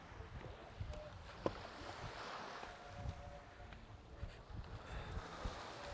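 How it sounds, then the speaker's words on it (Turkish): Steady wind blowing off the Aegean Sea at Datça, Turkey, a broad airy rush with faint lapping water and occasional gusts buffeting the microphone. "Denizden şöyle güzel bir rüzgar esiyor."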